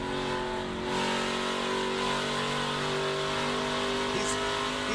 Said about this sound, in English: Let's just listen to the throttle for Lane Riggs in 1 and 2 as he goes down here